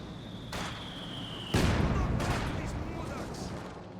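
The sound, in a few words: heavy mortar fire in the video game Company of Heroes 2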